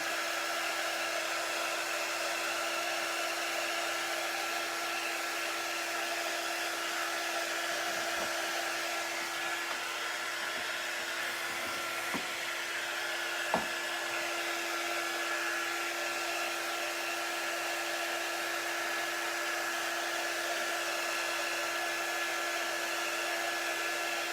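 A hair dryer blows steadily on a wet Christmas countdown craft piece, a continuous close whooshing hum that holds level for the whole stretch, broken only by a few faint taps.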